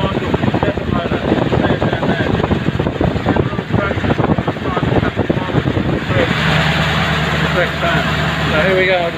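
A Leyland P76 V8 hybrid engine runs with a steady close rumble for about six seconds, then is switched off, leaving a quieter low hum as someone talks over it.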